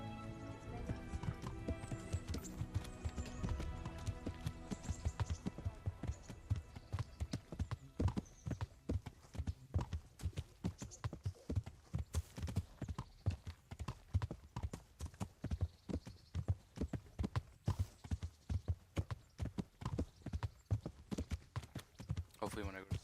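Horse hooves clip-clopping in the medieval video game Kingdom Come: Deliverance, a quick steady rhythm of sharp hoofbeats that continues throughout, with occasional neighs and someone talking over the gameplay.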